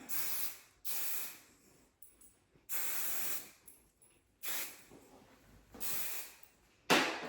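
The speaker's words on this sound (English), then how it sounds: "We would spray her down." A series of hairspray bursts, about six hissing sprays of roughly a second each, separated by short pauses, close and fairly loud.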